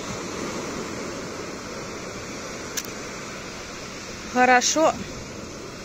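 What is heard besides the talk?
sea waves on beach in Spain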